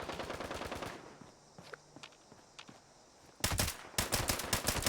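Rapid bursts of automatic gunfire in the video game Fallout 76, a loud rattling volley at the start, a quieter gap with a few single shots, then two more heavy bursts at the end.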